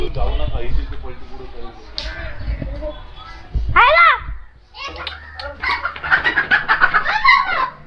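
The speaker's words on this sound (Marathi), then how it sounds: "काय तुम्ही एक कोंबडा नाही पकडू शकत?" A rooster clucks and squawks nearby while children shout and chatter excitedly around it, chasing it at a village fair.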